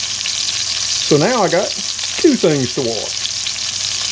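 Chuck roast searing in a pan gives a steady, moderate sizzle running underneath someone talking in the foreground.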